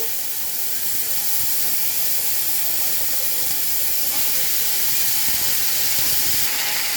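Drumstick and potato go into hot oil with fried cumin, setting off a loud, continuous hiss and sizzle that holds steady from start to finish.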